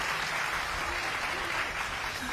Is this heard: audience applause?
yes